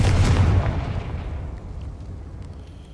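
A Confringo explosive spell from Hogwarts Legacy bursts with a single heavy, close boom that rumbles and fades away over a few seconds, with no voices.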